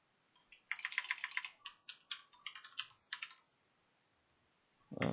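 Someone types on a computer keyboard in a run of quick, close key clicks lasting a few seconds, followed by a short pause and a heavier thump at the end.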